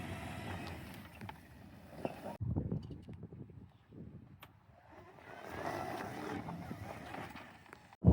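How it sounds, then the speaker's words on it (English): A lifted golf cart rolls on big, loud oversized tires, giving a rumbling low road roar that swells and fades with speed, with a short break in the middle and a sharp bump at the end. "We are moving right now with these big old tires. These tires are loud"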